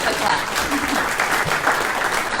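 Audience at a Nationals WA state conference breaking into applause, a dense, loud, continuous wash of many hands clapping throughout, with a voice faintly underneath.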